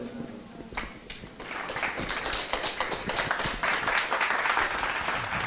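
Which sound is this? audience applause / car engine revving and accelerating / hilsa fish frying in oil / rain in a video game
audience applause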